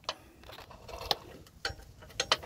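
Bush bolts on the anti-roll bar of a Ford Connect van being tightened with a ratchet, giving a sparse run of sharp metallic clicks and ticks at irregular intervals, close and moderately loud.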